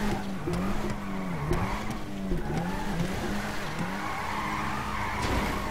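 A Nissan R34 GTR drifting in GTA 5: tires squeal continuously in wavering pitch over a droning engine, loud and sustained throughout, with no talking.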